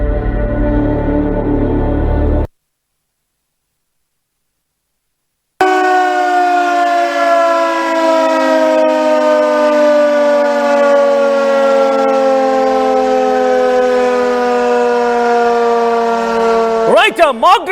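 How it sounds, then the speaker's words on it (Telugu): A civil defense siren wails loud and sustained for a mock drill, its rising and falling tone holding for over ten seconds after a brief burst of other sound and a silent gap. "మాక్ డ్రిల్ తాలూకు సైరన్ మోగింది."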